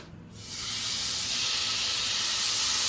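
Chicken fries in a non-stick kadai, a loud, steady hiss rising in the first half-second and then holding on continuously, close by with no voices.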